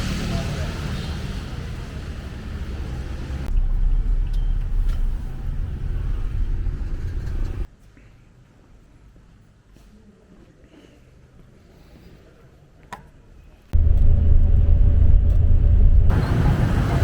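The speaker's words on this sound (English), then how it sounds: "Have a look at the traffic here." Cars and motorbikes roar through a Saigon street in a loud, steady wash of engine and road noise that drops to a quieter lull midway, then surges back up close by.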